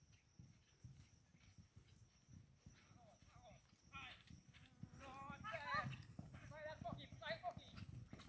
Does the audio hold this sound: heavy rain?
no